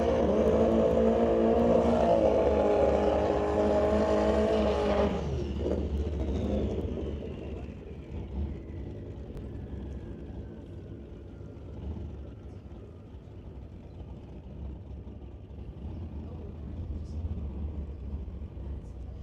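A Hayabusa-powered drag race car on a test hit roars loudly at the start, then its engine note drops and fades into the distance, leaving a low rumble of track ambience and faint crowd noise.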